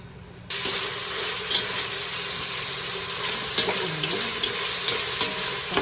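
Food frying and being stirred in a pan for a Chinese-style dish, a loud, steady sizzle that begins abruptly and carries on, with scraping stirs and small clinks close by.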